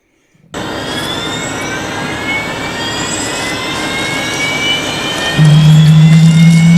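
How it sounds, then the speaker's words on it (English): The commercial turbofan engine of a Loyal Wingman autonomous combat drone starts up abruptly after a moment of silence, settling into a loud, steady jet roar. It steps up further in intensity near the end. "the autonomous drone powered up its commercial turbofan engine in anticipation of its first ever test flight"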